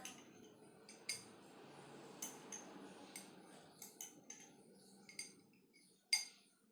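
A metal spoon clinks and taps against the inside of a milkshake glass while spreading Rooh Afza syrup, about ten sharp, bright clicks at irregular intervals over a quiet, faint background, close up and with no talk.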